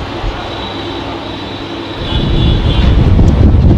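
A passenger train pulling out on a run toward Howrah: a steady low mechanical rumble with a faint high whine, swelling into louder, rougher engine and wheel noise in the last couple of seconds as it gets moving.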